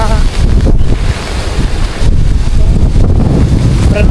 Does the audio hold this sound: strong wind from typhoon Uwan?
yes